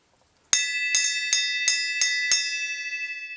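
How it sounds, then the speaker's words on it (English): A metal bell is struck six times in steady succession, each bright ringing strike about a third of a second apart, the last one left to ring out and fade, loud and close with nothing else heard. "Would you ring the bell, pal?"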